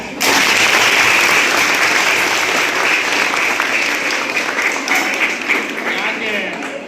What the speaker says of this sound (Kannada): ಹೊಡಿಬೇಕು ಚಪ್ಪಾಳೆ.